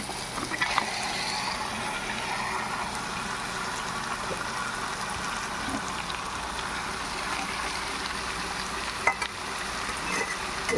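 Marinated chicken coated in salt and chili sizzles in a hot pan for a chicken curry: a steady, dense frying hiss throughout, with a few faint clinks.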